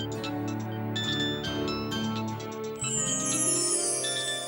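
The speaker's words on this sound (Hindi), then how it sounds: "आस्था का फोन।" A mobile phone rings with a bright, tinkling electronic melody that repeats steadily for several seconds, loud and close, with a higher chiming pattern joining near the end and no voices over it.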